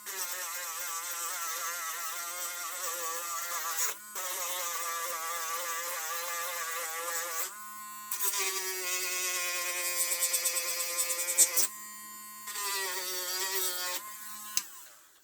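A Dremel rotary tool shapes a model truck load in a Hornby hobby workshop, whining high and steady in several long bursts that shift pitch as it bites and eases off.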